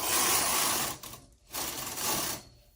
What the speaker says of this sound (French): je tricote un deuxième rang